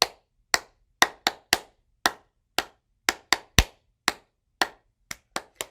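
Audience claps along to a song at a library Pride story time, seventeen sharp claps in a loose, slightly uneven rhythm, close and crisp with silence between, no talking.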